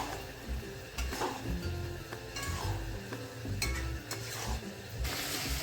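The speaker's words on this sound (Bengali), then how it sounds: "মাঝে মাঝে ঢাকনা খুলে পুঁই মিতুলিটাকে নেড়ে নেব" Pui mitule (Malabar spinach) simmers in a pan while a utensil stirs it, giving repeated scraping strokes and light metallic clinks over a low sizzle, fairly close.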